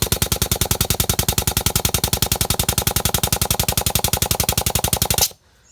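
A grease gun pumps grease into a trailer wheel hub with a fast, even mechanical clatter of rapid pulses, loud and close, running steadily for about five seconds before stopping abruptly.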